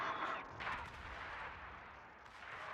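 A gun fires in a video game, heard as a few faint, distant booms with no talk over them.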